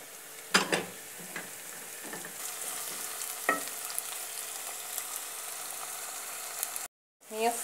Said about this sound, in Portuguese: Agora que o alho já soltou o aroma aí no azeite, eu vou colocar as cebolas.